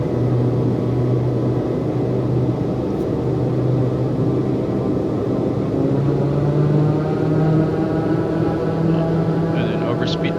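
Propellers of a Piaggio P180 Avanti in a flight simulator spinning up toward full RPM, a steady loud droning hum with a low tonal whine that rises slightly and holds.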